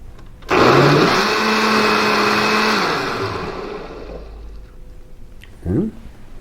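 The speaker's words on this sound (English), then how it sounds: "a teaspoon of vanilla powder, and we'll give this all a blend" A blender whirs loudly for about three seconds, blending an almond, apricot and peach smoothie with wheatgrass and vanilla powder, then winds down and fades, with a short motor burst near the end.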